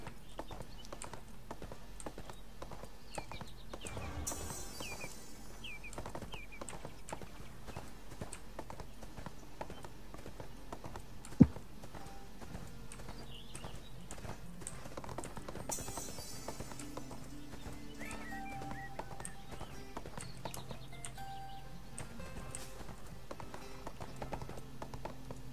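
Horse hooves gallop in the online game ArcheAge, a steady, quick clip-clop rhythm running throughout at moderate, fairly faint level with occasional game effects layered over it.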